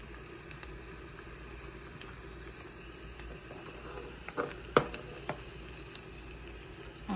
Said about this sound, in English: Cumin seeds. And let that fry up a little.